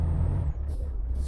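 A truck in Euro Truck Simulator 2 lets out one loud hiss of its air brake, with a steady engine rumble running underneath.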